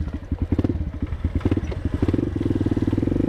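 A KTM dirt-tracker motorcycle with a Norifumi Evo stainless exhaust rides an off-road track, its single-cylinder engine popping in a fast, loud, close rhythmic thump that speeds into a steady rapid pulse as the throttle opens.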